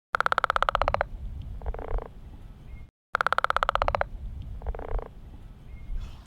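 A northern leopard frog's rapid, rattling snore-like call followed by softer grunting croaks, repeated twice in a row over quiet background noise.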